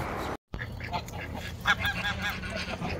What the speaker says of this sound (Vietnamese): Quá trời ngỗng luôn.